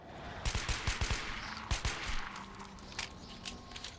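Rapid gunfire from the video game Metro rings out in close, sharp bursts, a quick string of cracks with some tinny metallic clinks, continuing at a steady, irregular pace without speech.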